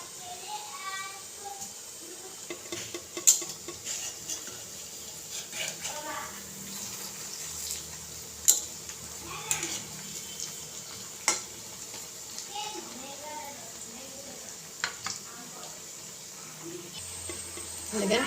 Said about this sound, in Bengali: এখন বড়াগুলিকেও লাল করে ভেজে নেব